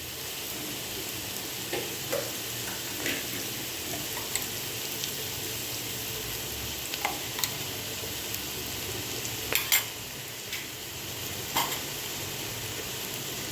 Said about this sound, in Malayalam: ഇനി ഇത് ഒന്നും കൂടെ ഒന്ന് നല്ല പോലെ നമുക്ക് വഴറ്റിയെടുക്കാം